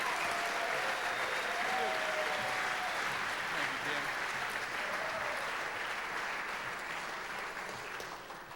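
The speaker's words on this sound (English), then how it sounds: "How about one more big round of applause for all of our state-winning sportscasters?" Banquet audience at a state sportscasters awards event applauding, a dense, sustained roar of many hands clapping in a large room, with faint tonal background sound and a gradual fade toward the end.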